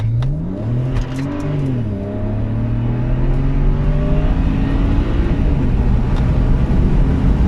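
A BMW 135i accelerates hard in a steady pull, its engine note rising continuously through the revs, loud and close from inside the car with no talking.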